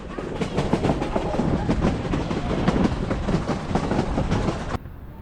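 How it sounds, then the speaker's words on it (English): Durango and Silverton steam train rolling along the track at about 30 miles an hour, a steady loud rumble with rhythmic clacks from the rails, cutting off abruptly near the end. "We are rolling down the track."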